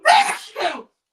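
A close, loud sneeze burst followed by a shorter second sneeze, both sharp and breathy, with nothing else around them.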